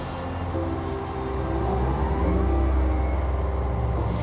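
An airliner being pushed back from its stand at Heathrow gives a steady, close, low rumbling drone that swells slightly partway through, with no voices.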